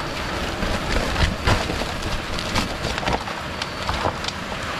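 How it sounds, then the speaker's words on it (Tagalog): Steady, dense rain noise pours down with a broadband hiss and occasional gusty swells, fairly loud and continuous, with no talking. "Sobrang lakas po ng ulan na."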